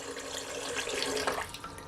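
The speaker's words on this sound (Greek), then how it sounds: "Λοιπόν, 625 γραμμάρια χλιαρό νερό" Lukewarm water pouring into a measuring cup for bread dough, a steady close rushing splash that holds for about two seconds with no talking.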